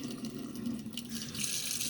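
A kitchen tap runs semi-warm water for rinsing duck meat, a steady splashing stream that grows brighter and louder as the flow is turned up.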